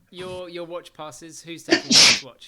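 A single sharp, loud sneeze bursts out right after a stretch of conversational talk around a tabletop Dungeons & Dragons game, close to the microphone.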